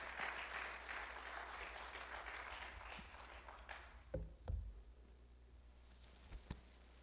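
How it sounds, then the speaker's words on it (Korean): A Korean church congregation at a New Year thanksgiving Sunday service applauds to welcome the pastor, a broad steady wash of clapping filling the hall for about four seconds before fading into scattered claps and a few louder thumps. "우리 목사님 나오실 때 환영의 박수로 환영하겠습니다."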